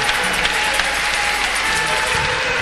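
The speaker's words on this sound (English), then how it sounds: "Clap for Jesus." A church congregation claps steadily and continuously for Jesus, a dense wash of many hands with crowd murmur, close and loud throughout.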